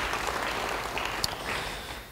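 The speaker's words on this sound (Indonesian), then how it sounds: "Yang percaya, beri tepuk tangan bagi dia." Church congregation applause during a sermon, a soft, fairly distant wash of clapping that holds steady for a couple of seconds before tapering off.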